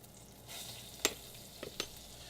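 Butter and flour roux stirred in a pan: a faint, soft sizzle with a few sharp scraping clicks of the utensil against the pan, quiet and close.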